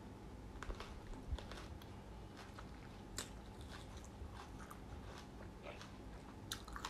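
Someone bites into and chews spicy sour plums up close, with a steady run of soft crunches and wet chewing that stays quiet throughout, with no talking.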